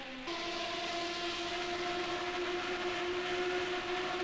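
A 1975 Formula 1 race car at the Paul Ricard circuit screams past with a sustained high-pitched engine whine, loud and steady, with no voices over it.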